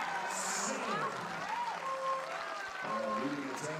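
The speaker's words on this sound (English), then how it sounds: "We can't applaud just yet, even though they are doing so in the crowd" A crowd applauding at a women's team recurve archery bronze match between the Netherlands and Mexico at the world championships, a faint steady wash of clapping beneath an announcer talking over it.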